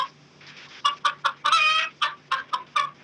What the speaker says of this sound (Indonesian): Saya yang nanya kok yang jawab ayam?